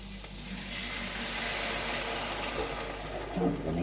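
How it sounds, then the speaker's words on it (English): White wine poured into a hot pan of sausages, a steady close hiss and sizzle of liquid on metal that holds throughout, with a faint voice under it. "now I will add the wine."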